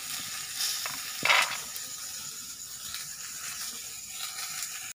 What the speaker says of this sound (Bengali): আর এদিকে পটল ভাজতে বসিয়ে দিয়েছি, তো পটলটা এখন ভেজে নেবো।